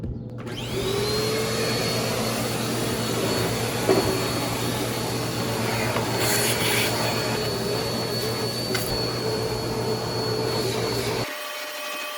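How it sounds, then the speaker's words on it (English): A car vacuum cleaner with a brush attachment runs continuously with a loud, steady whine and rushing airflow, occasional scraping and knocks, then cuts off abruptly near the end. "just after a vacuum, I'm glad I used that brush attachment"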